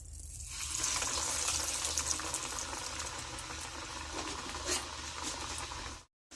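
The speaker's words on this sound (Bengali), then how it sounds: "আমি একটা একটা করেই ভাজছি।" Vegetable chops frying one at a time in hot oil in a small wok, a steady close sizzle and crackle that runs almost without break and cuts out sharply near the end.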